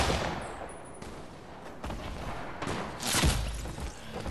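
Gunfire in the battle game Fortnite cracks out in several quick, fairly faint bursts, with a louder flurry of shots near the end, and no talking over it.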